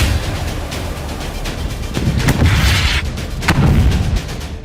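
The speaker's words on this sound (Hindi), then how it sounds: "किबुत्ज के कफर अज़ा में ग्रेनेड लॉन्चर से हमास के लड़ाकों ने घरों पर बमबारी की।" Heavy booms and cracking blasts from grenade launcher fire hitting houses in Kibbutz Kfar Aza, loud and rolling, several hits overlapping with a thick rumbling tail.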